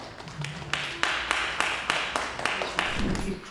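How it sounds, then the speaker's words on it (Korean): A seated audience applauds to welcome a speaker at a Camp Market academy lecture, steady clapping with sharp repeated claps rising above the crowd's sound for a few seconds. "저희 큰 환영의 박수 부탁드리겠습니다."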